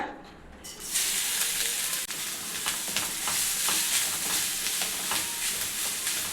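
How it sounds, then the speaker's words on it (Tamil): Grated carrot and coconut sautéing in ghee in a pan, a steady close sizzle with scraping stirs that begins after a quieter moment and keeps going throughout. "இப்போ ரெண்டுத்தையும் இப்போ அந்த வானலில் இருக்கிற நெய்யில் சேர்த்துக்கலாங்க."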